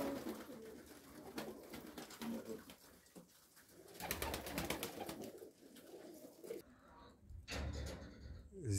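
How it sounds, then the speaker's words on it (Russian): Baku pigeons, both ordinary and broad-tailed flying birds, coo from an open dovecote in a Krasnodar region village, a close chorus of overlapping calls with a few sharp knocks and rustles in between. "Здесь открытая голубятня, бакинская птица, обычная и широкохвостая разная, для гона."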